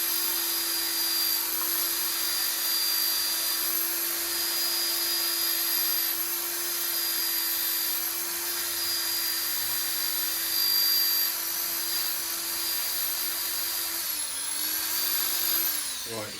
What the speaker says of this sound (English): I'm going to actually just take that down with my sander